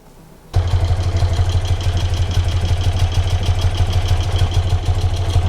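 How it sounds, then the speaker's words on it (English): A BMW R75/6 airhead boxer motorcycle engine starts and settles into a steady, loud idle with an even low thumping pulse and light mechanical clatter, close by with no talking. "start the engine, let the engine settle"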